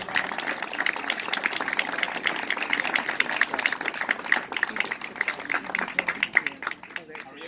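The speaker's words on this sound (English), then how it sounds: "So give a round of applause for Kevin Kiley." Audience at a small business meeting clapping for a California legislator, a scattered but continuous patter of many hands at moderate distance, softening and breaking into separate claps near the end.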